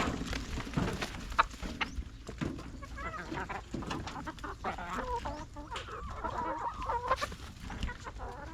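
Several chickens cluck and murmur close by, busy and continuous, with soft pecking and rustling beneath their chatter.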